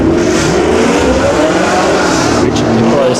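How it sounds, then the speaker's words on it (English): A Holden VS ute race car runs on a hillclimb track, engine droning loudly and steadily with rising pitch, while a commentator talks over it. "Richard Nicholas is on track at the moment in his Holden VSU."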